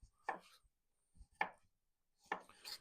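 Knife cutting around the edge of a fruit skin, peeling it away: three separate short crisp slicing strokes, close and fairly quiet, with pauses between them.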